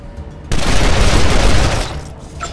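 Loud sustained burst of gunfire from a weapon in Wasteland 2, erupting suddenly into a dense rumbling volley that tails off after about two seconds.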